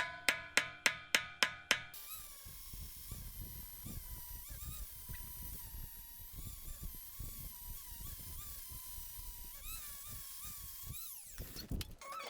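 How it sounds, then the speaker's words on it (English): A high, whining drill press runs steadily for several seconds drilling holes in steel after a rapid series of sharp metallic taps, then stops with a brief clatter. "Then I went back to the drill press to drill all the holes"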